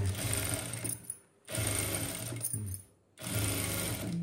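A sewing machine stitches a seam on a chudidar in three close, sustained runs of rapid whirring, separated by short pauses, with no voices.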